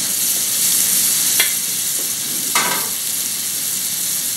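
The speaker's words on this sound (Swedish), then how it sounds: "Kan vi steka en bit och se hur det ser ut då?" A piece of minced beef sizzles steadily in a pan, with a continuous loud frying hiss broken by two brief sharper crackles partway through. Nobody speaks.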